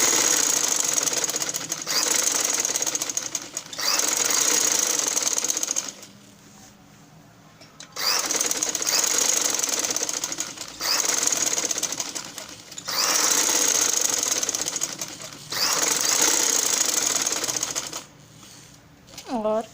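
Domestic sewing machine stitching a second seam on a one-year-old's summer baby frock, running in several loud bursts of a couple of seconds each with short quiet pauses between, a voice briefly audible in a gap.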